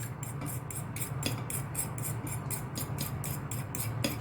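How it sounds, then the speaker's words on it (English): An egg beaten with a fork, rapid and steady metallic clicking of the fork against the bowl at about three strokes per second, close and clear over a low background hum. "I'm gonna try and beat the egg with a fork"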